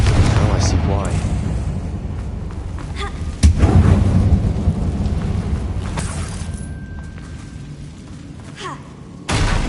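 A Confringo fire spell explodes inside an abandoned mine in Hogwarts Legacy on PS5, giving one sudden heavy boom midway through a dense rumbling game soundscape.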